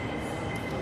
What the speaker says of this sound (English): there is a train to take to the baggage reclaim and immigration part of the terminal